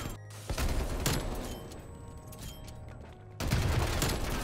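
Video game gunfire from a long-range shot, with loud bursts of shots and booms at the start, around one second and again near the end, set over a steady rumbling background.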